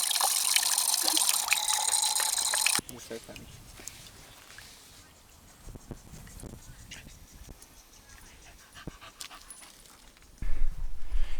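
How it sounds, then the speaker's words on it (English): A travelling dog pants on a road trip in Tasmania's Huon Valley, soft rhythmic breaths close to the microphone after a loud burst of rushing water or wind noise, which returns briefly at the end. "it's a hard life being a travelling dog"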